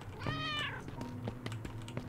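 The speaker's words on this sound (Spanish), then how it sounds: "El gato lo tenemos aquí. Está ahí, escondidito." A cat in the video game Undying lets out one clear, drawn-out meow near the start, followed by quiet clicks and taps of keyboard typing.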